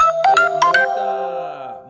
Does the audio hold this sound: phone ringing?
yes